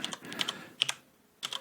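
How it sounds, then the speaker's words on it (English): Quick clusters of keystrokes clatter on a computer keyboard typed with one hand, coming in short bursts separated by brief pauses, close and fairly quiet. "I'm typing with one hand"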